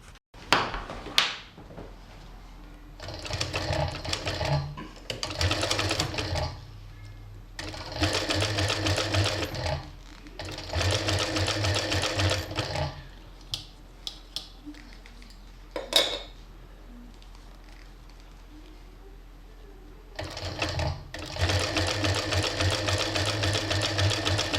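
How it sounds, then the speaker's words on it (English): A sewing machine stitches leather pieces cut from a racing suit into a bag, running in several close, steady mechanical bursts of a few seconds each, separated by pauses with small clicks and handling sounds. "So now I must sew around this edge here. These pieces of leather will be joined at the top all around."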